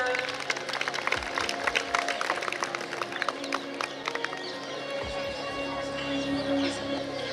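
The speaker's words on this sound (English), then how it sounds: "Please clap for our winners." Scattered, fairly quiet clapping from an audience at an institute's annual function award ceremony, with individual claps standing out over a low room murmur.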